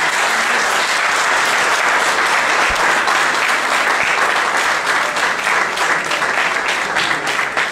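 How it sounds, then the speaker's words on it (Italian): Applause from the crowd at a municipal council team presentation in Montemiletto, Italy, loud and continuous, with sharp individual claps over a steady wash for the whole stretch. "Un applauso."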